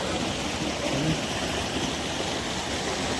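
Fast floodwater rushes across a village main road in Behbalpur, Garhshankar, Hoshiarpur, giving off a continuous dense roar that stays steady and even throughout, with no voices.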